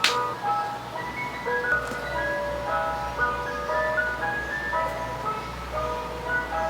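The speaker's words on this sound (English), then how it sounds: "Can you hear the ice cream truck?" An ice cream truck passes outside playing its melodic jingle, a steady, moderately loud tune that carries across the whole stretch with a low rumble of traffic underneath and no talking.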